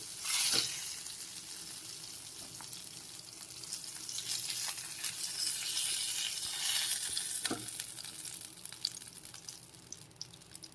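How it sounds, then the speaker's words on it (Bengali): Rohu fish pieces frying in hot oil with spices in a pan, a steady close sizzle with occasional stirring clatter, no talking. "একদম লাল লাল করে মশলা সমেত মাছগুলো ফ্রাই করে নিয়েছি"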